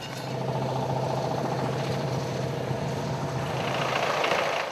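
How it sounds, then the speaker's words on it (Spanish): A McCormick Farmall tractor drones steadily while pulling an antique reaper whose drive wheel runs its mechanisms, a constant mid-distance engine hum with rattling machinery and no speech. "Arrastrada por un tractor McCormick Farmall, la rueda motriz de la segadora produce el movimiento de todos los mecanismos de la máquina"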